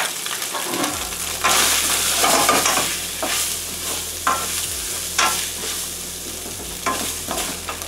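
Tofu fries in a pan with red pepper flakes and peppercorns, a steady loud sizzle broken by repeated scraping stirs as the pieces are moved around.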